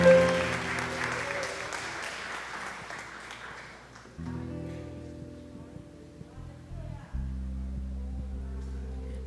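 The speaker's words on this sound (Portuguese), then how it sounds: "dê uma salva de palmas ao Senhor" Church congregation applauding during an evening worship service, sustained dense clapping at first that thins out, with organ or keyboard chords and a low hum sustaining beneath and continuing after.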